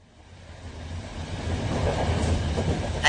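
A passenger train moving along the rails, starting quiet and swelling into a steady rumble with rhythmic clacking of the wheels, close and with no voices.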